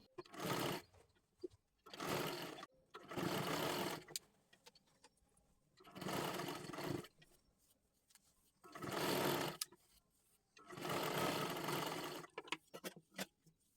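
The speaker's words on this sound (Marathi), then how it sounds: "पुन्हा एकदा आपल्याला गोल आकारामध्ये डबल शिलाई मारून घ्यायची आहे" A sewing machine runs in six separate bursts of rapid, steady stitching, sewing a double seam in a circle on fabric cut from a Kathpadar sari, with short quiet pauses between runs and no talk.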